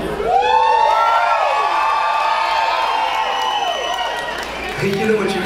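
Concert audience at a theatre screams, whoops and cheers loudly for the band, a sustained roar of many voices close around with shrill high cries rising over it throughout.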